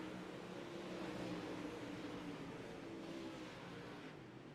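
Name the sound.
UMP modified race cars racing at Eldora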